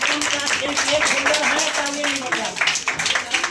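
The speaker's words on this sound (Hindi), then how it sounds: "जोरदार तालियां" Students clap together at a school prize distribution and results ceremony in Kochas, dense steady applause throughout with voices and talk mixed in underneath.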